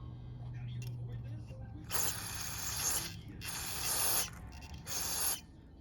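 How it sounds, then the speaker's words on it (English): Carb cleaner sprayed through a carburetor from a 1998 Honda CR125R motorcycle: three strong hissing bursts of roughly a second each, close and loud, separated by short pauses. "I'm just gonna spray carb cleaner through it like this way"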